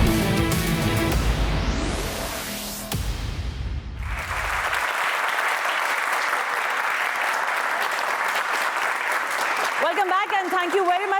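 Studio audience applause at a televised youth talk show, a dense steady roll of clapping that fills the room from about four seconds on, after a musical sting at the start.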